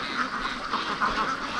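Several free-range ducks quack continuously nearby, a dense, busy chorus of overlapping calls with no voices.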